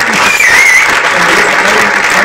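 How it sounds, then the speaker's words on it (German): A film festival audience in Berlin applauds Reza with loud, sustained clapping from a full crowd that fills the whole stretch without a break. "Da möchte ich auch noch mal einen riesen Applaus"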